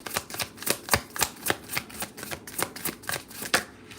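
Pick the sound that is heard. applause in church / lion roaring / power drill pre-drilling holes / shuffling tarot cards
shuffling tarot cards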